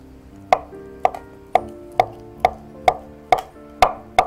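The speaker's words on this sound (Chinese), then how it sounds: "蛋白要把它切碎" Boiled egg white chopped on a cutting board for salted egg with bitter melon, about nine crisp knife strikes in a steady, evenly spaced rhythm, close and clear with no talk.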